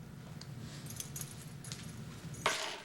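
A ring of restaurant keys jingles in a few light metallic clinks, then a sharper jangle near the end, close by over a low room hum.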